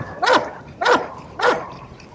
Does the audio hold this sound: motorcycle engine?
no